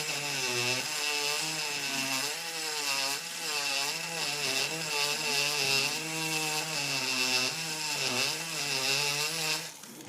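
A battery-powered surgical bone saw whines steadily through a dog's upper jaw during a rostral maxillectomy, its buzzing pitch wavering and sagging as the battery loses power, heard fairly faintly and alone for about ten seconds.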